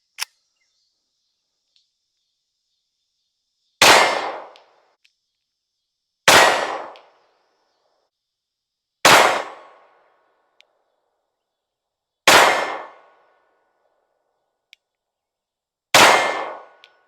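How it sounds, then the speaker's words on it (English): Five loud, sharp gunshots ring out from a PSA Rock 5.7 pistol fitted with a Crimson Trace CTS 1550 sight at a shooting range, spaced a few seconds apart and each decaying quickly, with faint clicks between and no talking. "And let's do some shooting, see how far, or see if it needs any adjustment on here."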